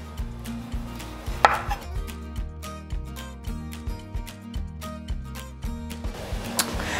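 A knife cutting segments from an orange for a fruit salad, heard as a steady, evenly spaced series of close chopping taps against a board, with one sharper knock early on.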